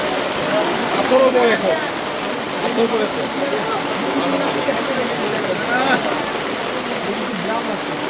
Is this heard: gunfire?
no